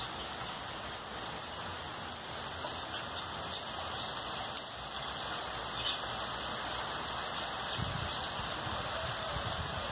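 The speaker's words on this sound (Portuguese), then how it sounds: "começou a chover e eu deixei as minhas suculentas na chuva para elas tomarem um pouco de chuva" Rain falls on potted succulents and cacti in a soft, steady patter of drops, fairly quiet and even throughout, with no voices.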